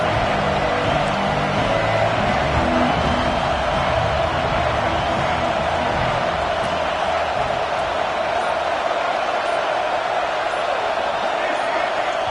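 A packed stadium crowd at a college football game roars in a dense, steady wash of cheering and noise that never lets up, loud and enveloping throughout.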